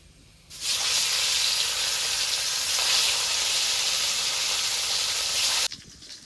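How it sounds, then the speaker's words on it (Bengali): Pieces of rohu fish fry in hot oil with a strong, continuous sizzle that starts abruptly, holds steady and loud for about five seconds, then cuts off sharply. "এবার বাকি মাছগুলো এভাবে ভেজে নেব"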